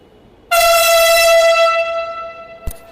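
A metro rail train at Dhaka's Secretariat station sounds its horn: one loud, sustained blast that starts abruptly and slowly fades over a couple of seconds, followed by a brief sharp knock.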